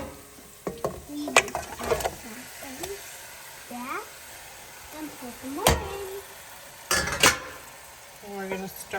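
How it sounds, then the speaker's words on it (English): Meat fries and gets stirred with golden-browned onions in a pan over medium heat, giving a soft sizzle with intermittent scraping and clattering bursts while a voice talks over it. "Now we're going to add the meat into this."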